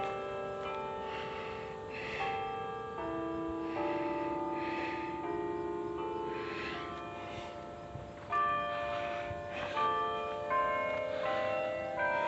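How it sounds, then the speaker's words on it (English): Church bells near a cemetery ring out in a slow, overlapping sequence of tolls, each strike ringing on and blending into the next, clear and moderately close with no talk. "Those are church bells, guys."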